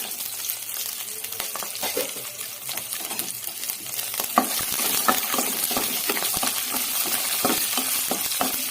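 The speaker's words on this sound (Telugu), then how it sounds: "ఇప్పుడు ఇందులోనే ధనియాలు, జీలకర్ర, చింతపండు, వెల్లుల్లి వేసి వేయించుకోండి" Coriander seeds, cumin, tamarind and garlic frying with onion in a pan, giving a continuous hissing sizzle broken by scattered stirring scrapes and small clinks, growing denser toward the end, with no talking.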